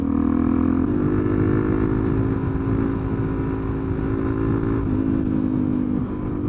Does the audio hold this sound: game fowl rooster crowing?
no